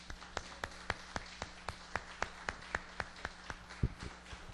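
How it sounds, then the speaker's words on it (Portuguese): Church congregation clapping in a steady rhythm during a worship service, about fifteen sharp claps in even succession, moderately close in a reverberant room. "Então vamos aplaudir ao Senhor."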